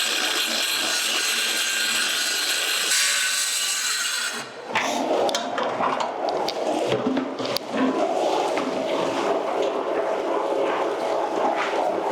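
A Ryobi power saw cuts through wood on a jobsite, a steady rasping, buzzing cut that briefly drops out near the middle before resuming with harsh, irregular grinding and scraping.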